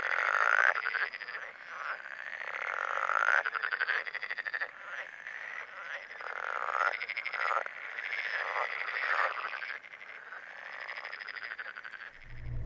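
Male green frogs croak at night beside a lake, a dense, continuous chorus of overlapping calls pulsing in repeated bursts, fairly loud and close, with no voices.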